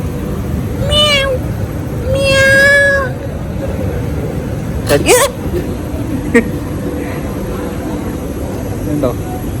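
Two drawn-out cat meows close by over a constant low background rumble, followed by a few brief sharp noises.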